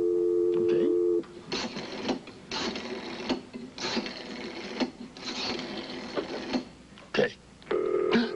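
A telephone rings in short electronic bursts, one at the start and one at the end, with a busy stretch of music and movement between them.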